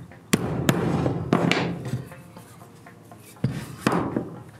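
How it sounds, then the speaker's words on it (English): Several sharp metallic-wooden taps in two short pairs as a hammer seats a rubber bushing into a Club Car DS golf cart leaf spring, with a brief ring after each strike, close by against a quiet shop background. "Tap that a couple times with a hammer"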